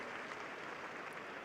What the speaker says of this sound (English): That round of applause there